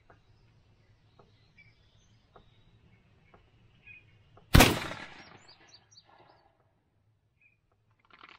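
A Stevens 301 shotgun fires one loud, sharp blast that decays into a short echo, standing out against quiet outdoor background with faint scattered ticks before and after.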